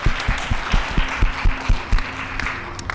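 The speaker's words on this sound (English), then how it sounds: "just a round of applause for Joshua" A conference audience in Las Vegas applauds an award honoree, a dense wash of clapping with sharp low thumps punctuating it, fairly close and full, tapering slightly toward the end.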